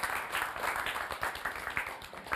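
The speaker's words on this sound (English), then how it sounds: "Let's clap for our panelists." Audience clapping for the panelists on a talk show, a steady patter of many hands at moderate volume that stays even from start to end.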